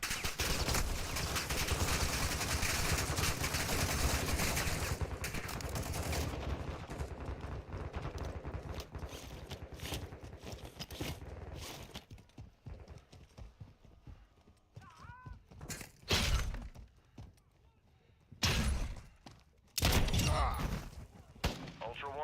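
Gunfire in a video game firefight, dense rapid bursts of shots for the first few seconds, then sparser loud single cracks and short volleys against quieter game ambience.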